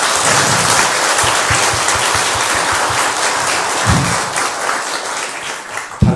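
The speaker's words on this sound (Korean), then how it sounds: "우리 이들에게 한번 격려의 박수 한번 쳐드릴까요?" Church congregation applauding its young members, a sustained wash of clapping from many hands that gradually thins toward the end, with a few sharper claps standing out near the close.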